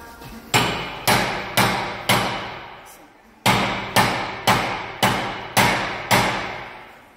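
A hammer strikes metal while an ABS ring is being changed on a BMW E90, with about ten heavy, ringing blows landing in a steady rhythm, broken by a brief pause midway, loud and close.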